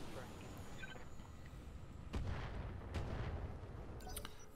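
Mech weapons fire in the Roguetech video game as two heavy booming shots land a second apart over a low rumbling background.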